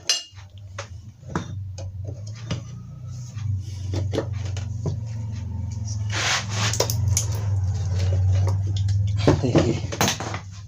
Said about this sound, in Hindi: यहाँ पे पेचकस डालेंगे, इस तरह से पेचकस डाल लेंगे और फिर हम इसको ऐसे करके खोलेंगे इसे